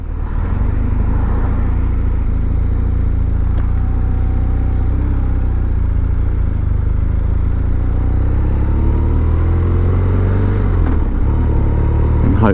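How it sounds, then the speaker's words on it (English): Motorcycle engine under load, accelerating steadily and climbing through gears with rising pitch and brief dips at each change, loud and close throughout with no talking. "And hopefully you can just hear that engine."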